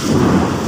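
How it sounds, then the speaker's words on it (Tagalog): A loud, low rumble of thunder during heavy rain in Houston, Texas, rolling through, deep and close, filling the whole moment. "At kumukulog pa."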